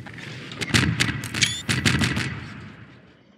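Fireworks exploding in Garry's Mod give a rapid string of sharp, loud crackling bangs in quick bursts, with a short pause midway and a final pop at the end.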